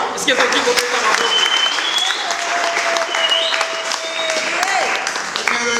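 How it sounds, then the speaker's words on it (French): Sustained applause and cheering from a church congregation at an evangelical mission service in Kisangani, loud and continuous throughout with scattered voices and whistles in the crowd. "Est-ce que nous pouvons acclamer?"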